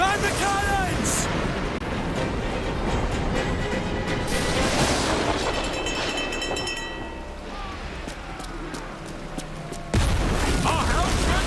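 Ship cannons fire in the pirate naval battle game Assassin's Creed Black Flag, with booming blasts scattered among wind, creaking sea ambience and shouted crew voices throughout.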